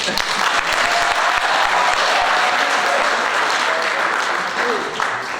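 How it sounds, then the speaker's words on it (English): Audience clapping at a law moot court competition, a steady wash of many hands applauding throughout, fairly loud and sustained, fading slightly toward the end. "Even though it's social studies, you can clap for it."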